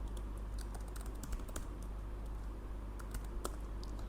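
Keys tapped steadily on a computer keyboard while code is written for an Apex trigger in Salesforce, with soft irregular clicks over a constant low hum.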